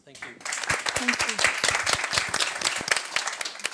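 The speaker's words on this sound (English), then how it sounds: "So a round of applause for our speakers." Audience applause for speakers at a retail talk on AI, many hands clapping closely and briskly after a short pause, with a voice giving thanks over the clapping.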